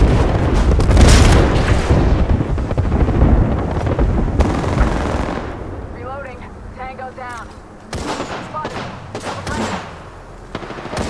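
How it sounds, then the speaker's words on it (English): Airstrike explosions fall in Apex Legends, a dense run of loud booms and blasts through the first half, then scattered heavier hits later, with game voice lines and effects mixed in. "An airstrike is falling."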